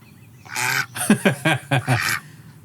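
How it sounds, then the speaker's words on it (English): A duck-like honking call, a string of about five loud, close, rhythmic squawks rising and falling. "What does the duck noise mean?"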